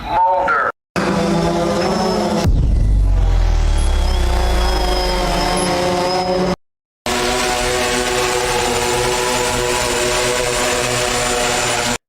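A delivery drone flies past in a scene from an X-Files episode, with a loud, steady propeller whine and engine roar that builds to a heavy low rumble and then cuts off abruptly in places.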